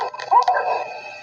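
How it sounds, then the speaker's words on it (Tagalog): A dog barks and yips a few times in quick succession, close and fairly loud, followed by a fading whine; a ghostly nighttime setting outside a window. "Kumakaul yung aso."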